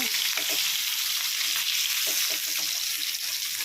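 Fish 65 pieces fry in hot oil in a pan, a steady loud hiss of sizzling with small pops and the occasional scrape of turning, no voices.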